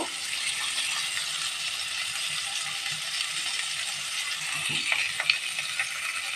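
Ridge gourd pieces coated in turmeric and salt frying in oil, a steady moderate hiss and sizzle with light crackles and a few small clinks near the end.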